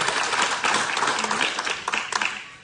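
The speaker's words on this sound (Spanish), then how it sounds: "Vamos a darle un aplauso fuerte si tú sabes que amas a Dios" A church congregation bursts into applause during a sermon, a dense wash of clapping from many hands that runs steadily before tapering off, with some voices mixed in.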